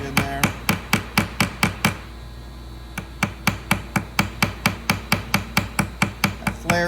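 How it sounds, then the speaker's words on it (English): A ball peen hammer taps a pin in a flintlock rifle's ramrod tip to flare it in place. Sharp, close metallic taps come in quick, even series, pause about a second, then resume steadily. "Use a ball peen, just snipe it down like this."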